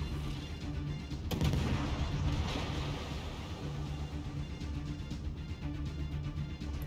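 Naval gunfire in World of Warships, with incoming shells landing as a few muffled booms and splashes over a constant low sea and engine rumble, heard at moderate distance.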